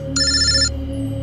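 A mobile phone ringtone rings once in a short electronic burst of stacked tones, standing clear above a steady low background hum, then stops.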